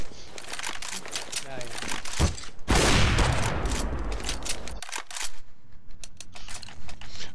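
Gunfire in Counter-Strike: Global Offensive crackles in quick bursts, with a dense loud volley in the middle, heard up close over game noise.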